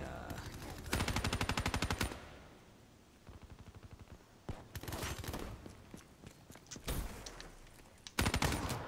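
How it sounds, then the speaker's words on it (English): Rapid gunfire in Call of Duty: Black Ops 3 team deathmatch, with repeated bursts of close automatic shots and heavier blasts that fit shotgun fire, broken by brief quieter gaps of game noise. "that guy had a shotgun"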